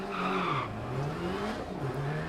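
Rally car in DiRT Rally spinning out, with a tonal tire squeal and skid sliding up and down in pitch over a steady engine drone.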